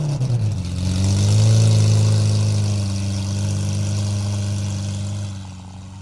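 A car engine at an exotic car show cranks up and idles with a deep, steady rumble, swelling slightly in revs early on before settling and easing off near the end; close and loud, with no talk.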